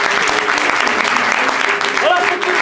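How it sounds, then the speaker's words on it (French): An improv-comedy festival audience in France applauds a performer named Diego with full, dense clapping that runs unbroken from start to finish, and a brief voice rises over it near the end. "on applaudit Diego"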